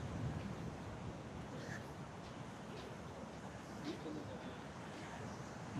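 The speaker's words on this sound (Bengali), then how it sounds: "অনেক সমুদ্রের বাতাস" Sea wind buffets the microphone by the ocean in Pondicherry, a constant low rumbling roar with faint surf beneath and brief muffled voices.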